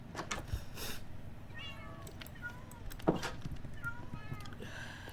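Several Minecraft cats meow in overlapping bursts, quiet and repeated throughout, with a sharp click in the middle.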